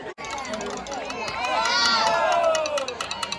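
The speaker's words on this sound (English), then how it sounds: "They're about to do a cheer, I'll record it" High school students at homecoming shout a rhythmic group cheer together, a crowd of young voices chanting in unison at close range with scattered yells and chatter around them.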